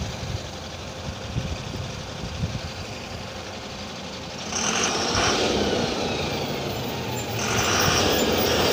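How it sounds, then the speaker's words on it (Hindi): An Eicher truck passes on a road, its engine a broad rumbling roar that swells partway through and stays loud and close, with no talking. "ये गाड़ी आयशर की गाड़ी है,"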